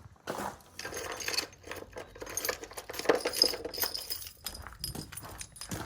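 Keys jangling and clinking as they are fetched near an RV awning light and volt meter, a run of light metallic rattles close by with no talk.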